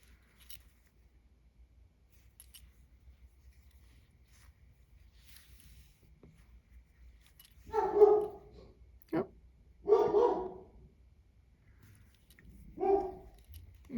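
A dog barks a few times at a distance, in short separated bursts over a quiet background with faint low rumble.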